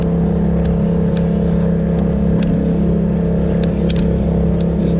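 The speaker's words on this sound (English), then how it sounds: "Just trying to slowly break in the engine." A BOTE Rover boat's outboard engine runs steadily at about half power while being broken in, a loud, constant motor drone with a strong low hum and no speech.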